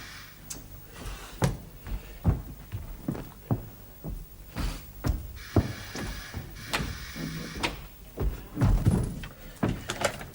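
A door in a house in a 1971 drama: a rapid run of knocks, rattles and latch clunks, then the door opening with a soft rush, close and fairly loud, with no voices.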